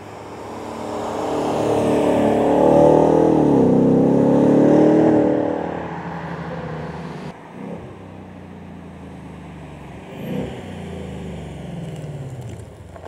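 Loud Ford Mustang convertible engine heard from outside, a sustained rising and falling roar for about six seconds that then drops to a quieter rumble with a brief swell, no talking.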